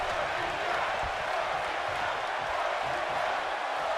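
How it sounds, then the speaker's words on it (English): Steady arena crowd roar from a WWE 2K22 wrestling main event, a constant dense wash of cheering that holds at an even level throughout with no speech over it. "You can hear the crowd"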